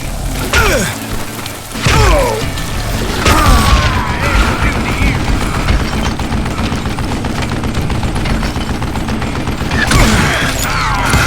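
Western-style gunfire in the video game Call of Juarez Gunslinger: loud, dense bursts of shots and booms with mechanical clicks and ratcheting, continuous and close over a busy game soundtrack.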